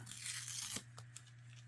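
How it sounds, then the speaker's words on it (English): Paper tears back in a short, close rip for a Jesse Tree craft, followed by a few faint crinkles and small crunches against a low background hum. "Tear this back just a little bit."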